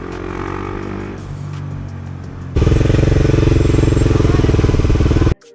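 A Bajaj Pulsar NS400Z motorcycle being ridden, its engine droning steadily before breaking into a loud, rapid pulsing exhaust roar up close that cuts off abruptly at the end.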